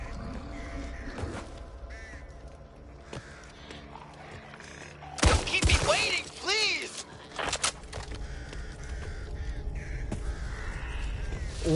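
Crows caw in the video game Back 4 Blood amid game ambience, with a burst of loud thuds and clattering action in the middle; a player talks at times.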